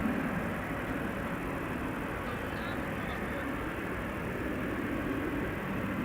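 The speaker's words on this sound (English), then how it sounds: "E2 Embraer to London Heathrow, another KLM on the cheaters lane." KLM Embraer E2 jet departs Amsterdam Schiphol bound for London Heathrow, a continuous, fairly even engine roar with a steady broadband rumble throughout.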